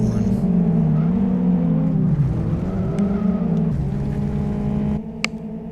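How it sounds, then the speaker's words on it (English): Race cars in a racing video game roar together into turn one, a dense, loud, steady engine drone with shifting pitch as they brake and accelerate, with a commentator's voice over it. "here we can get a view of all of the cars flying into turn"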